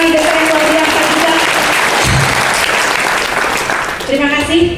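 Audience at a network business event in Bandung claps loudly and steadily throughout, a dense continuous applause with a voice speaking over it at the start and end.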